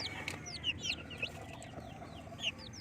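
Small free-range chicks about two weeks old give repeated high, thin peeps and chirps in quick bursts at close range, over a low steady background hum.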